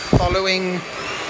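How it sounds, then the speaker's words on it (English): A handheld hair dryer blows a steady, close whooshing stream while hair is styled with a brush from roots to ends, with a man's brief speech over the noise. "Going to turn the dryer on, so I probably won't be able to speak while this is on."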